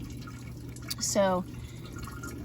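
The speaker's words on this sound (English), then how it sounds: "inside this section here, the water trickles down, and then it goes on the roots of the lavender" Water trickles down inside a Tower Garden vertical growing column onto lavender roots, a soft, steady wash running beneath a short spoken word.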